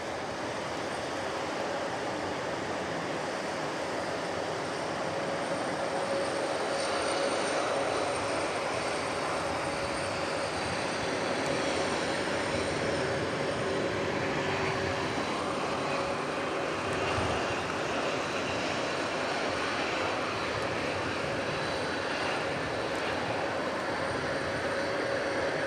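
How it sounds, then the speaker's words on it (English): Iberia Airbus A330 jet engines spool up on the runway at DFW Airport after dark, a loud, sustained broadband roar with a rising whine that holds steady throughout. "This is the biggest build-up for an Iberia A330 that I think there's ever been."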